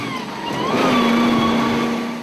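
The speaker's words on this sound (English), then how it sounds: "And the next truck through is a Range Rover, father and son team." A Range Rover 4x4 competing in a winch truck challenge stage drives past close by, its engine note rising and holding steady as it climbs through the course, with no talk.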